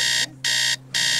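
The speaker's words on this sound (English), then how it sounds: "Just got to hit the alarm." An alarm sounds in three loud, steady electronic buzzing bursts separated by short gaps, close and harsh, with no talking.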